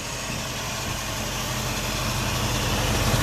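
A 1965 Ford Mustang custom coupe with an Edelbrock dress-up kit and dual exhaust with trombone tips idles smoothly, a steady low engine drone close by with no talk.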